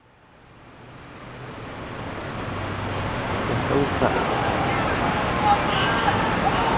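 In live news footage of the 9/11 attacks, a second airliner approaches in the distance as a low, broad roar that swells steadily louder, with city noise and faint crowd voices underneath.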